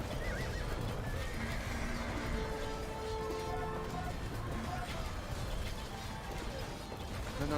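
Horses in the Age of Empires video game neigh and whinny repeatedly over clattering hooves and battle noise, a busy, continuous game soundscape.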